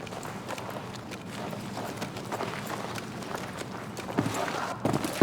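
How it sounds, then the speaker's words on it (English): Prone crawling in Battlefield 6 gives a continuous soft scraping and rustling of body and gear along the ground, fairly quiet and close, with a couple of louder shuffles near the end and no speech. "And prone crawling."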